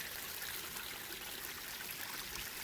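A small mountain spring stream on the Appalachian Trail runs over rocks, giving a steady, soft, hissing trickle of water that holds even throughout.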